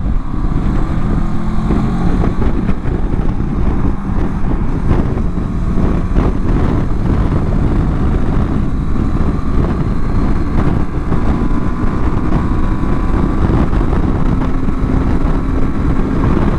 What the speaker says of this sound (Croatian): Da uđemo na autoput, da vidimo sada kako se ponaša pri većim brzinama ovaj motor